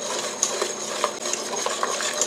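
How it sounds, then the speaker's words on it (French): A metal utensil stirs and scrapes through a pot of Haitian creole gratin with onion, onion powder, garlic and spices, giving repeated soft clinks and scrapes close up over a low sizzle, without speech. "Continuez à brasser toujours."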